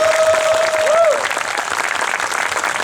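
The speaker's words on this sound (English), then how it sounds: "please give them a round of applause" Crowd applause for a group of volunteers at a Christmas drag show fundraiser, loud and continuous across the whole stretch, with a whistle early on over the clapping.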